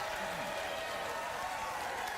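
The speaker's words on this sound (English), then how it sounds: "Let your applause die away quite naturally, as if it were real and not forced out of you" Applause from a late-night talk show studio audience, a soft, dense wash of clapping that stays even and fairly faint for the whole moment.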